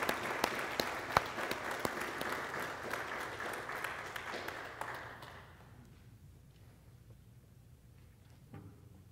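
A church congregation applauds steadily for about five seconds during a service, then the clapping fades out into a quiet room with a few faint shuffles.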